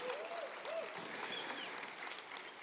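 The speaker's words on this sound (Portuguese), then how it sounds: "Dê uma forte salva de palmas para Jesus" A church congregation applauds during a sermon, a steady wash of clapping with a few faint whoops and cheers, moderately distant and continuous throughout.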